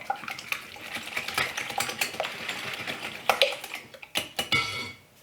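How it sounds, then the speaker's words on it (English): Eggs and honey whisked together in a bowl for a gluten-free pumpkin roll, a quick, light patter of wire tines scraping and tapping the bowl in a steady close-up rhythm, no talking. "And then whisk this together until it's really combined."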